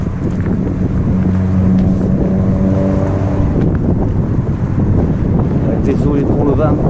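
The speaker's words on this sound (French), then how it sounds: "Désolé pour le vent." Wind blasts into a phone microphone beside the water where someone is fishing, a steady loud low roar with a faint engine hum running underneath.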